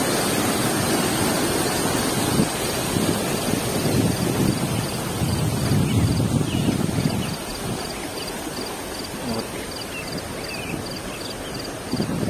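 A small waterfall in Sapadere canyon near Alanya, Turkey: a loud, steady rushing of falling water, close by, swelling for several seconds and then settling to a slightly softer continuous roar.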